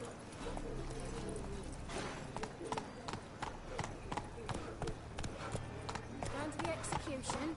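Hooves of a horse galloping in The Witcher 3, a steady rapid clip-clop running throughout over a dense game soundscape, with a voice talking over the hoofbeats.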